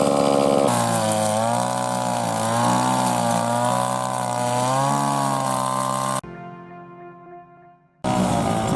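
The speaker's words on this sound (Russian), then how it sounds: "А пила орет, не слышно." A chainsaw running loudly at steady high revs in a village yard, a harsh buzzing drone that holds for several seconds, briefly drops toward idle, then roars back up.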